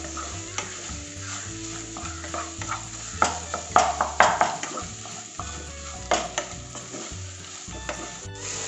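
Mashed potato is stirred and pressed with masala in a pan for sandwich filling, with repeated scraping and clinking of a utensil over a faint sizzle and quiet background music.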